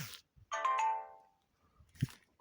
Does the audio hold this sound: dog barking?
no